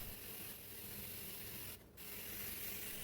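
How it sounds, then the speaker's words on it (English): Glass cleaner spraying and wiping inside a kitchen oven, a close hissing, rubbing texture that runs steadily, with a brief pause near the middle. "you're going to spray it all over with that glass cleaner"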